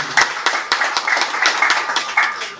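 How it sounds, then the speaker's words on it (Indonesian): An audience at a village gathering in Banyuwangi claps hands in honour of the district chief prosecutor, brisk and fairly loud, with distinct individual claps standing out from the crowd over a couple of seconds. "Kan ada tepuk tangan dulu."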